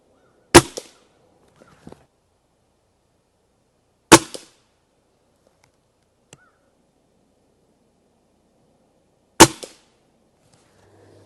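Gamo air rifle firing shots in a five-shot group: three sharp, loud cracks spaced a few seconds apart, each followed by a faint click, with near silence between.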